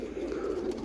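Roller pigeons cooing close by, a steady low throaty coo that runs without a break, with no talking.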